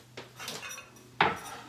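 A chopping board and knife are handled in a home kitchen while baking a chocolate fudge cake, giving a soft knock early on and then a sharper, louder clatter of wood and metal near the end, close by with no talking.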